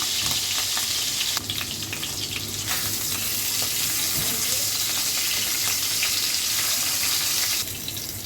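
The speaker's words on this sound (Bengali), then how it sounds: "মাছটা যখন একটু ভাজা হয়ে যাবে" Loud, continuous sizzling of rohu fish frying in hot oil, a bright crackling hiss with small shifts in intensity.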